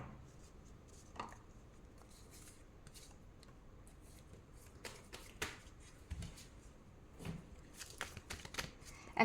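Tarot cards being drawn and handled, soft scattered flicks, slides and taps of card stock at close range, quiet and irregular, growing a little busier toward the end.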